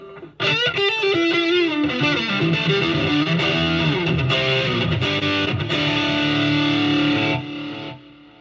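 A distorted electric guitar through a Headrush effects rig plays a sustained phrase, loud and full, with a little delay so the notes trail off into a brief echo at the end.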